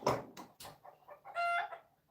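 A rooster crows at a distance outdoors, its drawn-out call rising and falling near the end, following some short clattering knocks nearby.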